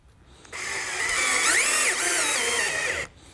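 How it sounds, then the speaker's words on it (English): Cordless power drill driving screws into the brackets of a bypass shutter track, one steady whirring run of about two and a half seconds with a brief pitch rise partway through, close and loud with no talk. "we only are going to install these screws into the screw ports"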